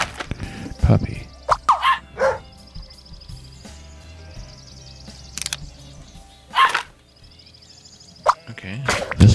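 A cartoon puppy in the video game Scribblenauts Unlimited yaps in several short, bright barks spaced irregularly, with small chirps in between over a quiet game backdrop.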